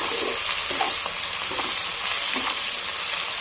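Rupchanda fish frying in a pan with coconut paste, a loud, dense, continuous sizzle and crackle close up, with faint stirring scrapes, no voices.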